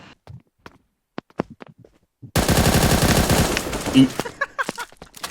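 Sustained automatic fire from an HK416-Viperid rifle in the shooter game Bullet Angel: a loud, rapid burst runs for about two seconds, with scattered clicks and brief game sounds before it and a few trailing hits after.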